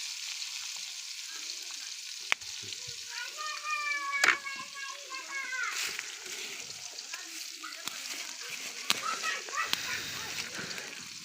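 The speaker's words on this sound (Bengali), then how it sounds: "মরিচ দিলাম, তারপরে রসুনগুলো দিয়ে দিলাম অর্ধেক, পেঁয়াজও দিয়ে দিলাম।" Chilies, garlic and onion sizzle in hot oil in a pan, a bright continuous crackle with occasional sharp clicks and stirring scrapes, while a voice and other speech carry on in the background.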